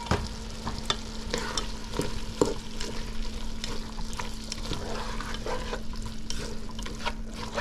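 Corn stirred into a simmering corn stew with okra and pig tail, a steady bubbling sizzle with scraping stir strokes and a low hum under it, close and continuous, no talking.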